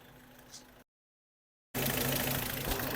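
A Suzuki Cultus car engine with tappet noise runs up close. It is quiet at first, then there is a moment of silence, then a loud, steady, rattly idle.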